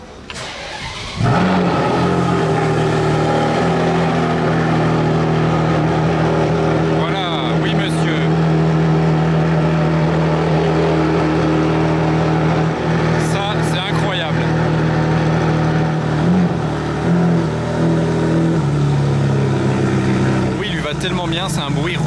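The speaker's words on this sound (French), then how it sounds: "c'est un V12 rock sur la Enzo" A Ferrari Enzo's big V12 engine starts and revs hard, a loud sustained roar rising and falling in pitch with a few sharp throttle blips, close by.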